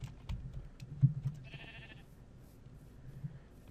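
Sheep bleat in the game Minecraft, a faint, short call rising over low background ambience near the middle, with soft clicking around it.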